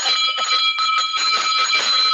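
A hand bell carried through the streets rings continuously and loudly up close, a fast, clattering metallic peal with sustained shimmering tones and no talking.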